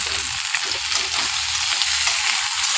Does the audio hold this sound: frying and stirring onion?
yes